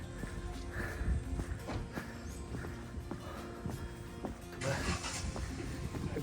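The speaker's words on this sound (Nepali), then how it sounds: "मान्छेहरू चाहिँ गाडी सुई सुई जाँदैछ।" Vehicles roll past on a road near the Srikhola waterfalls, a steady mid-distance traffic rumble with a louder whoosh of a passing car near the end, no talk.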